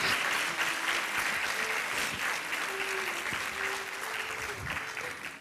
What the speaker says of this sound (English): Please give Shria another round of applause.